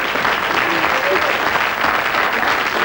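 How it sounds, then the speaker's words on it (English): Hearty audience applause for a quiz contestant, a thick, even wash of clapping running loud and unbroken from start to finish. "So a big round of applause for Joe."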